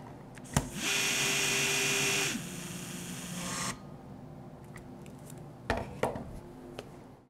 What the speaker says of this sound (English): we're going to demonstrate tightening a bolt on a soft joint